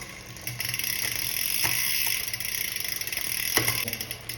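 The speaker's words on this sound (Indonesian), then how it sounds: "kita shifting sekarang pakai yang ini sampai dia ke sprocket kedua dari atas" A Campagnolo EPS electronic rear derailleur shifts a bicycle chain toward the second sprocket, producing close, small mechanical ratcheting clicks and a whirring chain over a constant background hiss.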